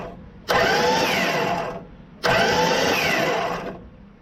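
A 1964 Plymouth Belvedere slant six engine cranking on the starter without firing, in two loud, steady bursts of about one and a half seconds each, separated by a short pause.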